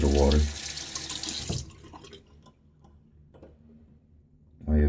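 Running tap water splashes loudly as a shaving brush is wetted at a sink, cutting off abruptly, followed by quieter handling sounds and a brief return of flowing water at the end.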